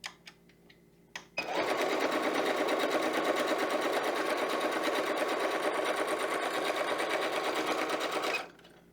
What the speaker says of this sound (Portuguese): passo novamente mais uma costura com um ponto mais largo